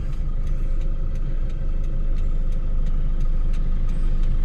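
A used Toyota Vigo pickup truck drives along with a steady, close engine drone and low road rumble, unbroken throughout and with no voices.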